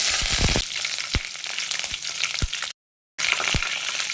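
Cinnamon, curry leaves and bay leaf crackle as they fry in hot oil for egg rice, giving a dense sizzle with sharp pops and stirring knocks that breaks off into silence for a moment.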